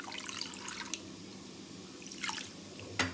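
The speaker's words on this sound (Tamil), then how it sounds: "நம்மளுக்கு தேவையான அளவு தண்ணியை, நம்ம எவ்வளோ குழம்பு வைக்க போகிறோமோ அது தேவையான அளவு தண்ணி இதிலே ஆட் பண்ணிக்கலாம்" Water trickles and drips into a village-style Tamil fish curry (meen kulambu) mixture, a few faint, sparse drips spaced about a second apart in a quiet kitchen.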